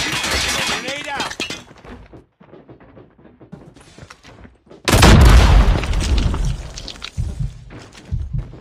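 Grenade detonation in Call of Duty Mobile frontline mode: a loud, close, sudden boom with a sharp crack near the five-second mark, preceded by game voice callouts and quieter combat sounds, then a trailing rumble.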